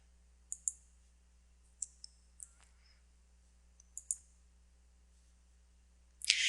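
Crisp mouse clicks on buttons in a recipe app come in a few separate pairs with pauses between them, quiet and close over a faint low hum, with no talking.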